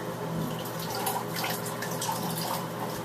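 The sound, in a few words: water rinsing a hand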